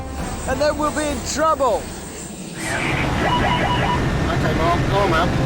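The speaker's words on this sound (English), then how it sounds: "if these engines run at full thrust for more than 20 seconds, they'll start to rip up the runway" Boeing 747 jet engines spool up to full thrust on a runway, a loud broadband roar that swells and holds steady while people talk over it.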